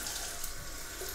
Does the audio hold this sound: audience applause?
no